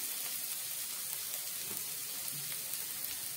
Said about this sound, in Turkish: Şöyle ilk aşamada soğanları güzelce yakmadan kavuruyoruz.